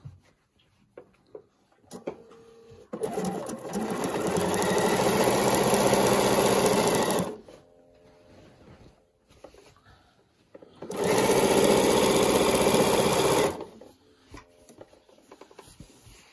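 A Bernina sewing machine stitches binding onto a quilt in two loud, sustained runs, the first about four seconds and the second shorter, separated by a quiet pause with small handling noises.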